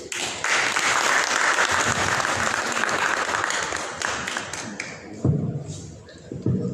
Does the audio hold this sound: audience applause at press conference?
yes